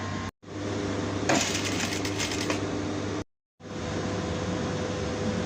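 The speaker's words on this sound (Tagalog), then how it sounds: "Tapos, pagkatapos, tahiin na natin dito." Sewing machine stitching the hem of a shortened pair of trousers during a tailoring alteration: a steady whirring drone with a brief, brighter rattling burst in the middle, cut by two short silences, with no talking.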